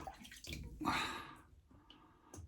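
A shaving brush is soaked and swished in water before a head shave, giving a short burst of splashing and sloshing that swells and fades, close and fairly quiet, with faint drips after.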